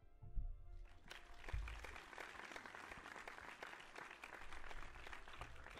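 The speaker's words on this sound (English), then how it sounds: "that deserves a round of applause" Applause plays during a live coding stream built around an Alexa skill, a continuous patter of many hands that sounds fairly faint and thin, like a canned clip rather than a room.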